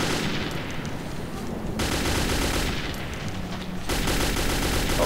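Dense automatic gunfire in the shooter game Metro 2033, loud rapid bursts with two brief pauses, close and continuous.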